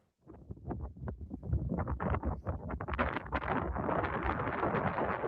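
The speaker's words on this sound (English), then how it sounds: "When the wind gets strong enough, every umbrella turns into a sail." Strong wind roars and buffets the microphone outdoors at a picnic, building from silence into a dense, continuous gusting rush that grows louder and steadier toward the end.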